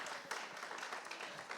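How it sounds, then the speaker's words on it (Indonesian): Seminar attendees clap for a speaker named Leo, a brief, soft patter of applause with a few louder individual claps. "Tepuk tangan dulu buat Leo ya"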